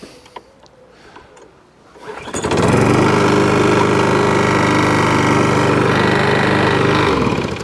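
A Toro lawnmower with a Briggs and Stratton engine starts after a few quiet clicks, then runs loud and steady at close range for several seconds before cutting out.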